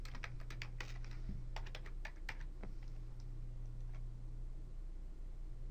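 Keys on a computer keyboard tapped out in quick bursts and single clicks over a steady electrical hum, close by, while a password is entered on a login screen.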